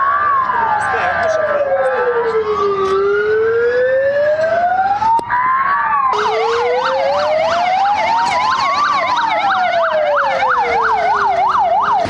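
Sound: sirens of arriving fire brigade emergency vehicles

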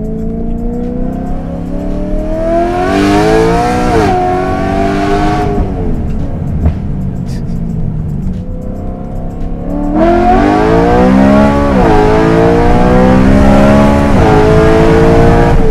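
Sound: sports car accelerating hard

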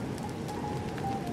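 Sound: rain falling in The Legend of Zelda: Tears of the Kingdom (video game)

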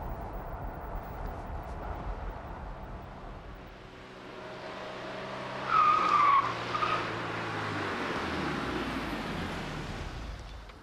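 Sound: Renault 19 car tires skidding in evasive maneuver test

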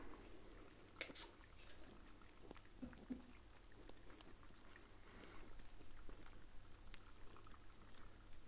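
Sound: water being poured during a spa treatment

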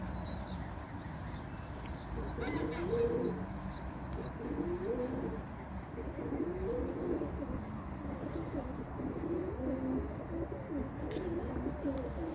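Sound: birds cooing

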